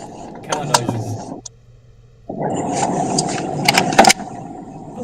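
During a tabletop role-playing game session, a voice imitates car noises in two rough, rumbling bursts of mouth sound separated by a brief pause, close and fairly loud.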